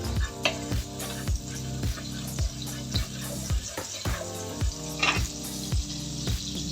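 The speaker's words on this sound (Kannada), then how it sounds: "ಸ್ವಲ್ಪ ಅದು ಚಟಪಟ ಅಂತ ಅನ್ನೋದು ನಿಲ್ಲತ್ತಲ್ಲ" Spices and oil crackle and sizzle in a hot pan while preparing a country chicken curry, with regular stirring scrapes every half second or so in a close, busy rhythm and no talking.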